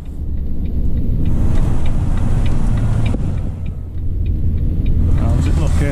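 An AZX car is driven with its engine running, a close, steady rumble inside the cabin while a person talks over it throughout.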